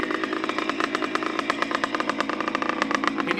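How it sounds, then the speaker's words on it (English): A Montesa Cappra 125 VA motorcycle, decades old but kept in new condition, runs close by with a steady, busy mechanical rattle and rapid pulsing throughout, with no talk over it. "Looks like a brand new, sounds like a brand new bike."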